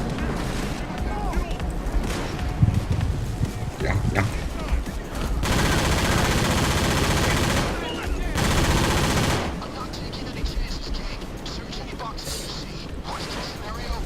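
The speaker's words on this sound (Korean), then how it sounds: "총소리 진짜 크다" Loud bursts of rapid gunfire from the video game Payday 2 come in long sustained volleys, with a voice talking in between the bursts.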